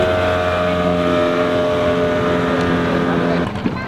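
A hot-rod engine on an Indonesian klotok boat runs loud and close, with a steady droning hum rich in tonal harmonics that holds evenly before dropping slightly near the end.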